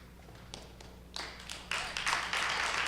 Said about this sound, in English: The applause shows that.